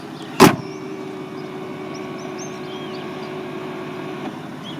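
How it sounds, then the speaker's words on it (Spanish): A short motorized whir and soft thud as the rear window sunshade of a Mercedes-Benz E-Class closes, heard once near the start inside a quiet cabin, followed by a faint click and low steady hum. "el cierre de la cortinilla."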